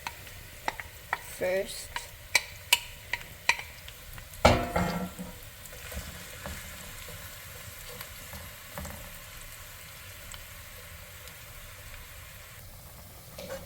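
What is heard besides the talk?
onions sautéing in a pan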